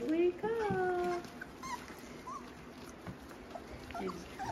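Young F1 mini Bernedoodle puppies whimpering just after waking, thin high whines in a short burst at the start, then quieter, with faint talk and light background noise.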